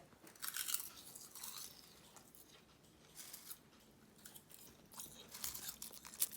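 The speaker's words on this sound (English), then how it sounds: "Listen to this crunch, guys." Crisp homemade spiced kale chips crunch in several loud bursts up close, with quieter chewing between bites and no talking.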